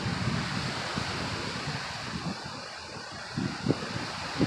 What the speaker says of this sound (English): How the wind's bouncing them trees around.